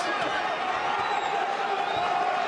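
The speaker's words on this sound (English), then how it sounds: "Crowd trying to will him on." A boxing arena crowd roars continuously behind a fighter in the bout between Robin Safar and Derick Miller Jr, a dense, steady wash of cheering with commentary talk running over it.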